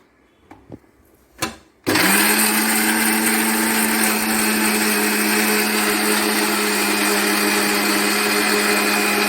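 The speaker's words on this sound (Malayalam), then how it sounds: "തക്കാളി ചെറുതായിട്ട് അരിഞ്ഞുണ്ടാവുമല്ലോ, അതുകൂടി ഇട്ടൊന്ന് അടിച്ചിട്ട് ഒറ്റ അടി അടിച്ചെടുക്കാം" An electric mixer grinder blends chopped tomato for a sardine curry, a few short clicks giving way after two seconds to a loud, steady high-pitched motor whine that runs unbroken to the end, with no voices.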